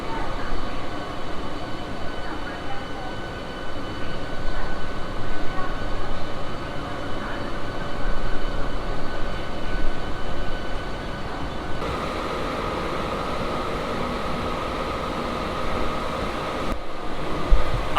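A Howrah to Belur Math local train runs along the line near Liluah, a continuous loud rumble and clatter of the carriages with a steady hum, heard from inside.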